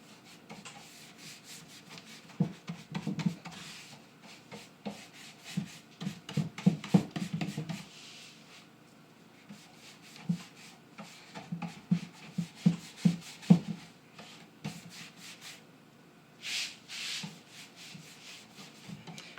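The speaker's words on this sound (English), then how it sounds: "So the chalk paint really absorbs this wax as soon as I start putting it on." Furniture wax rubbed by hand onto a chalk-painted dresser gives soft, repeated scuffing strokes that come in uneven bursts and pauses. The strokes sound close and fairly quiet, with no talking.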